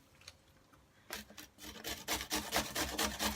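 Radishes are grated on a hand grater for coleslaw, starting with faint scraping, then louder rhythmic rasping strokes close by, a few per second.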